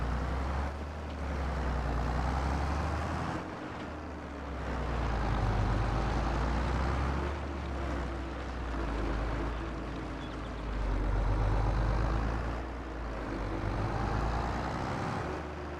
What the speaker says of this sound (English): the sound of this tractor is acceptable.